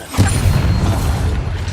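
Bombarda spell detonation in Hogwarts Legacy: a short quiet moment, then a sudden heavy boom that holds as a dense low rumble with crackling debris for over a second.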